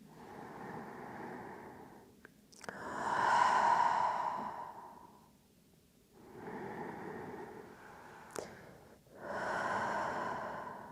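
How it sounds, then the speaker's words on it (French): Slow, deep breathing during a pilates floor exercise, forehead resting on the mat: long, airy inhales and exhales in an even cycle, close and fairly loud, with no talking. "on va garder 3 respirations ici"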